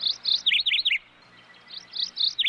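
Small bird chirps in quick high-pitched bursts, two clusters of bright tweets separated by a short pause, clear and fairly close against a quiet background.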